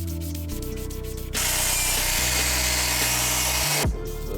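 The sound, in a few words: sanding a car headlight with sandpaper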